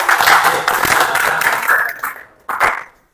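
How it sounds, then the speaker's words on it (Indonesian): A classroom audience claps for a student group after their presentation, a brisk burst of hand-clapping that fades, pauses briefly, then flares again for a final short round. "tepuk tangan untuk kelompok 3"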